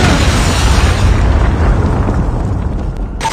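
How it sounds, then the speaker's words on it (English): Predator missile explosion in Call of Duty, a loud, close, roaring blast whose broad rumble fills the span before tailing off, with no voices over it. "Friendly Predator missile inbound."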